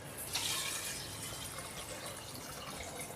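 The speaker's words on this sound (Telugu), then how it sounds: "ఇప్పుడు ఈ వాటర్ని ఇందులోకి వేసేసుకుందాం." Water poured into soaked, salted rice while making chicken pulao, a continuous splashing gush that starts strongly and settles into a steady, fairly close fill.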